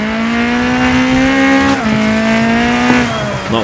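A Lancia rally car in the racing game DIRT 5 holds a loud, steady engine drone with brief throttle dips and slight tire scrub, close and continuous with no talk.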